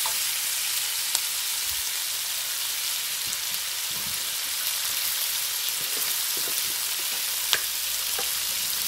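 Tomatoes fry in a pan for Sri Lankan devilled chicken, giving a soft, even hiss of sizzling with a few faint taps, steady throughout and fairly quiet.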